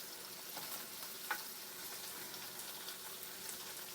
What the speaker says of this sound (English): And while those are browning off, just trying to give them a flip every now and then.